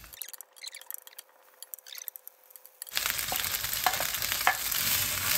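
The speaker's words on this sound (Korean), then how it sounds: "소세지를 볶아주세요." Sausages and rice cakes stir-frying in a pan for a cheese oven tteokbokki dish: quiet scraping and clinks give way to a loud, steady sizzle with scattered stirring clacks, close up and without talk.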